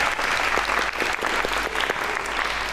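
Studio audience at a Pakistani talk show breaks into sustained, loud applause, a dense even wash of clapping lasting a few seconds without talk.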